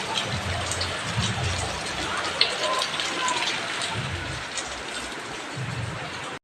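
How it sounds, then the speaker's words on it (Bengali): Rain falls steadily outside a home garden, a dense even patter with occasional drips, while a low voice murmurs faintly in the background at intervals. "বৃষ্টি পড়ছে।"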